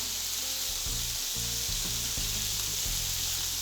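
Chicken bread roll grilling on a hot pan, a loud, steady sizzle with crackling fat that continues throughout, close by, with low muffled knocks underneath and no speech.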